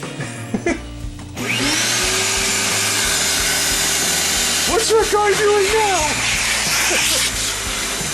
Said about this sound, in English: The problem with using a vacuum like this in exhaust mode is that it blows all over the place.